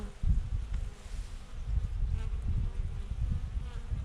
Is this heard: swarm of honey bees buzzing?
yes